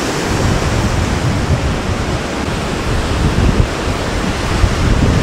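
Storm-driven sea waves roll and crash in a dense, loud roar of broadband surf and wind, continuous and unbroken with no voices.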